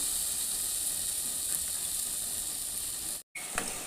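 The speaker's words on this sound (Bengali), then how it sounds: "এই দেখুন মশলাটা কীভাবে কষাচ্ছি" Spice paste with cumin powder frying in a little oil in a pan, a steady close sizzling hiss that breaks off briefly just before the end, then resumes.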